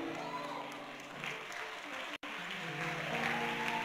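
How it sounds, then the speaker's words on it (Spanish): A church congregation applauds during a service in a sustained, busy wash of clapping with a voice carrying over it and a brief cutout midway. "aplauso fuerte porque es para Jesús"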